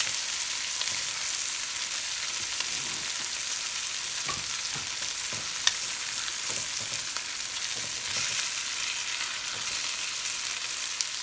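Oxtails sizzle steadily as they brown in a pot, with a close, continuous frying hiss and occasional soft knocks and scrapes as the pieces are turned over.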